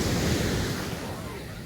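Rough, churning sea surf crashes at Pondicherry beach at sunrise, a dense continuous roar with heavy low rumble and wind buffeting the microphone, loud and close throughout.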